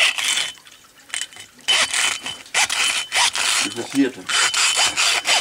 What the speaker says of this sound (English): this is normally done by the use of a hacksaw. You split the hem into two